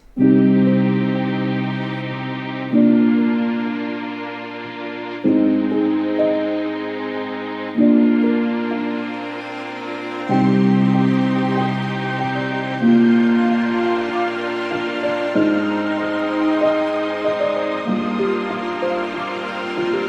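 A melody played on a violin preset, layered with synth and audio samples, repeats in phrases of about two and a half seconds, steady and loud with no voices.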